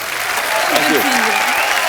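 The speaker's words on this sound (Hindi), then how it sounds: "जोरदार तालियां।" A studio audience on a comedy talk show claps briefly and loudly while a voice speaks over the applause.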